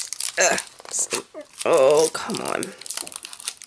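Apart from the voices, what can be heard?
opening beaded garland packaging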